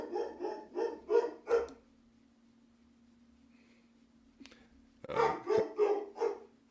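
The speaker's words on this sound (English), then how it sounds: "Sorry about the dog, guys." A dog barks close by in two quick runs of five or six sharp barks, with a few seconds of near silence and a faint steady hum between them.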